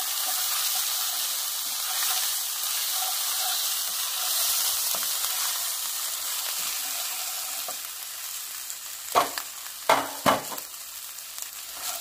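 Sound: ginger paste and dry red chili frying and being stirred

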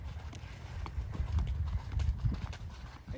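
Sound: horse hooves while riding a canter

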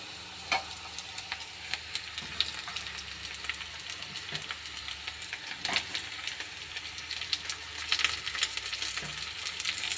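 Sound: onions frying in a pan

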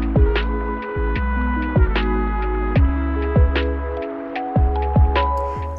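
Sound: sewing machine stitching crop top straps

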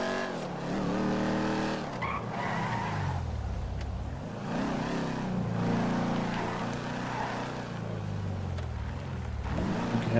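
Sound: car skidding and racing in video game Grand Theft Auto V

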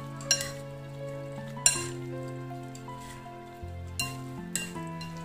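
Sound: tossing and stirring food with chopsticks

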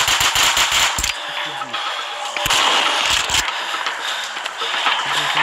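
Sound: gunfire in a zombie shooter video game

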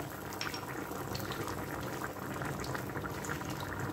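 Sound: hake cooking in a pan for merluza a la gallega

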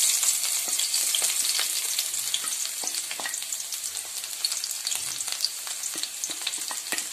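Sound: chopped shallots and curry leaves frying in a pan

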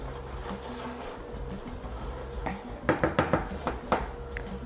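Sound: stirring lime juice into pumpkin coconut-milk dessert

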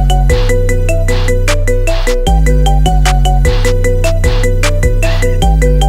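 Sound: iPhone ringtone, marimba remix of a song

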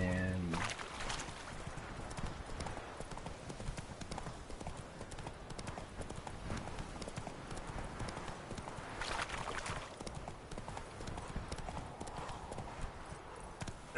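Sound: horse Roach hooves clip-clopping, video game The Witcher 3

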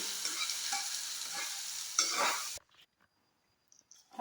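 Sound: stirring cucumber curry frying in a pan

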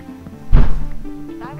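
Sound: door slamming shut

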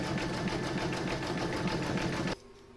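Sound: embroidery machine zigzag stitching round 10 on table topper

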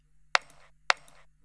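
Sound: kick drum sample

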